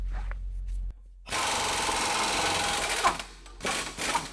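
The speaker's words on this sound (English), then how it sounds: "Just gonna take the 2 axle bolts out." A power tool removing axle bolts on a Honda Civic during an engine removal, whirring steadily and close for a few seconds after a short low rumble, then dropping to brief bursts.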